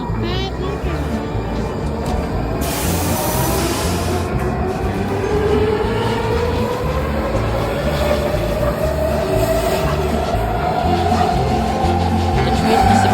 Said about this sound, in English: The train disappears into the tunnel and towards downtown Chicago last stop.